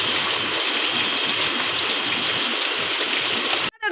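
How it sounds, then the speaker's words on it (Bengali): Heavy rain pours down steadily in a broad, dense hiss that stays loud and continuous until it cuts off abruptly near the end. "ভালোই বৃষ্টিটা হচ্ছে,"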